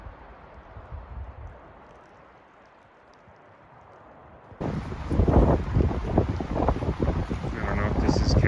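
Strong blizzard wind in a snowy mountain pass, starting as a soft steady rush and then surging into a loud, roaring buffeting against the microphone that holds for the rest of the stretch.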